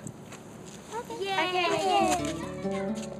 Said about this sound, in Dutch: Alle kinderen spelen samen op het plein.